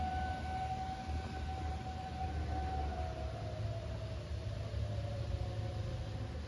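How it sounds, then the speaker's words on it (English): A steady tornado warning siren wails continuously during severe weather, its pitch drifting slowly downward over a constant low rumble of background noise. "the tornado sirens are going off this morning"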